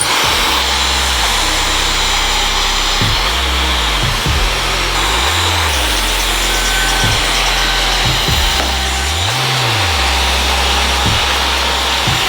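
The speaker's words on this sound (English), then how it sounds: "I'm going to just blow dry it really quick with my Dyson, and I'm using the concentrator attachment" A Dyson hair dryer fitted with the concentrator attachment blows steadily on short relaxed hair, a loud continuous broadband whoosh with low rumbling tones that dip and swoop as the dryer moves, and no talking.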